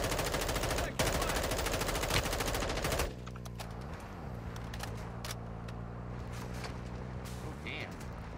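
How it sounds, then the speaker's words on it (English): Rapid automatic gunfire from the video game Warzone rattles loudly for about three seconds, then gives way to quieter game noise with occasional distant shots and faint engine drone. "A bullet just went over my head."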